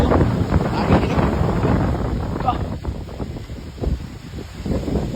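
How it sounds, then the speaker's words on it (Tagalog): Strong wind buffets the microphone outdoors in loud, continuous rumbling gusts, with voices talking faintly underneath. "Grabe ka ng hangin"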